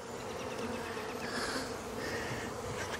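A dense swarm of honey bees from a package being installed in a horizontal hive, buzzing continuously, close and loud, a thick droning hum with no voices.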